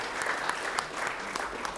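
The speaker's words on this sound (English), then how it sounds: "Want to clap for that?" Steady, dense applause from a city commission meeting audience honoring the undefeated U11 Brownsville United girls soccer team, filling the whole short stretch at an even, moderate level without voices on top.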